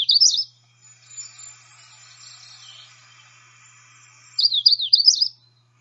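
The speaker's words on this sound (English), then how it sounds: "Here's an example of a singing magnolia warbler." Magnolia warbler song, a male giving short sweet whistled warbling phrases, one near the start and a clearer run at the end, with a quiet hissy background between.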